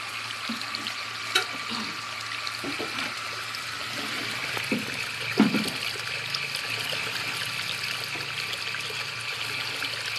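Water gushing steadily from a newly built 220-foot PVC deep well during a flow test, a continuous broadband rush with a couple of brief knocks, fairly constant throughout with no talk.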